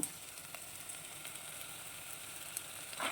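Potatoes and carrots frying in a pan for a vegetable biryani, a steady soft sizzle with occasional light crackles and pops, close and fairly quiet.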